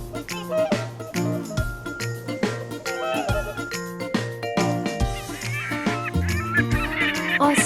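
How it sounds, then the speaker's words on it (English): A swan gives honking calls over a bright musical backing with chiming, jingling notes. The calls come in short repeated bursts throughout. "Swan. Graceful, white water birds with long necks."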